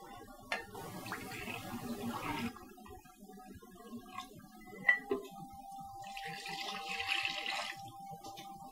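Whole milk and cream poured into a mixing bowl, a soft liquid splashing and trickling in two stretches with a few small knocks between, faint and close.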